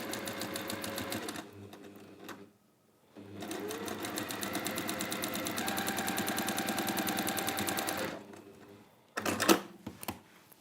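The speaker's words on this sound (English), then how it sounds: "So you'll sew them together, all of them together in pairs." Sewing machine stitching quilt border fabric pieces together in pairs, running in steady rapid bursts of several seconds with a brief pause between runs, close and clear, ending with a few short clicks and handling sounds.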